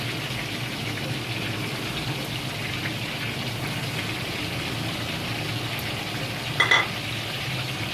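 Nargisi koftas frying in masala give a steady, close sizzle and crackle throughout, with a brief clatter near the end.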